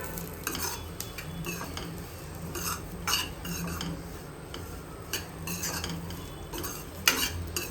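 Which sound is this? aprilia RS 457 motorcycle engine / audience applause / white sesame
white sesame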